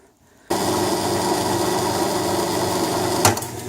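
A handheld power sander grinds the coating off a Cold Steel GI Tanto knife handle in a steady, loud whir that starts abruptly after a brief silence, with a sharp spike near the end.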